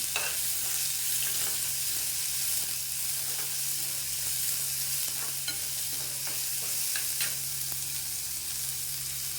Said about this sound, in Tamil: இது ரெண்டுத்தையுமே ஒட்டுக்கா போட்டுறேன். போட்டு நல்லா வதக்கிக்கலாம்.